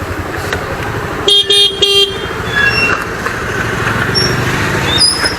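Short horn toots from a Bounce electric scooter sound twice in quick succession amid steady traffic noise on a rainy road, loud and close, followed by passing vehicle hum and faint high beeps.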